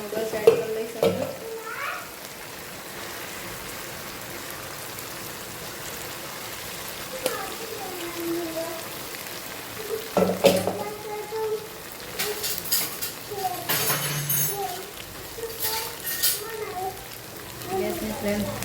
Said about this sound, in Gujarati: ગેસની ફ્લેમ ધીમી કરીએ અને આ 2 ફોર્કની મદદથી નૂડલ્સને હલાવી લઈએ.